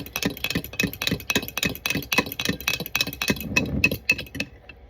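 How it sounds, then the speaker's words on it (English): A fork stirs a mixture in a bowl at home, making a quick, steady rhythm of bright clinking taps against the bowl, close and fairly loud with no talking. "I'm just going to use a fork and give it a little stir"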